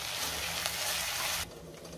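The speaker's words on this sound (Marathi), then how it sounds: "आता मी त्यात आले लसणाची पेस्ट घालते आणि पुन्हा 1 मिनिटं परतून घेते।" Ginger-garlic paste fries with softened tomato in a pan, producing a dense, close hiss of sizzling that drops away abruptly just before the end.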